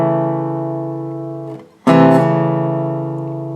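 Guitar strikes the fifth and fourth strings together for the opening hammer-on figure of a song; the notes ring and fade, then a second sharp strike follows after a brief gap, played alone.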